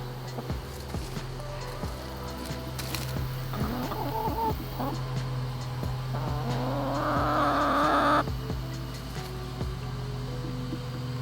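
A farm chicken clucks and squawks nearby over about eleven seconds, a series of irregular calls rising into a louder, drawn-out cackle before it stops, over a low steady background hum.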